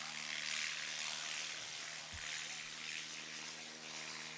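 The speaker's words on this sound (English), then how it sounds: "Piper Zilla on his takeoff roll" Engine of a Piper aircraft on its takeoff roll at a national STOL competition, a steady broadband propeller drone with faint low hum, heard at a distance under an announcer's commentary.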